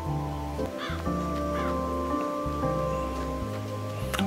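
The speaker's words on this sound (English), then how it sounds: "What is the bird doing?" A bird in the game Calico calls in repeated rising caws over a steady backdrop of layered music and ambience, with the calls fairly faint and spaced about half a second to a second apart.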